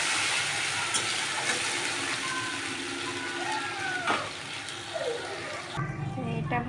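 Batter hissing in hot oil with cumin and bay leaves, a loud, steady broadband sizzle under a voice, dropping off sharply near the end.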